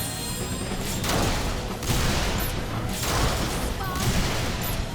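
Video-game firefight against robot enemies: dense, rapid pistol and SMG fire crackles in sustained bursts with brief lulls, loud and close.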